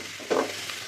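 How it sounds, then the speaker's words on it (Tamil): Chopped onions sauté in oil in a kadai, a soft close sizzle with a brief louder stir-like burst near the middle. "கொஞ்சம் கலர் மாறுற வரைக்கும் நம்ம வதக்கி விட்டுடலாம்"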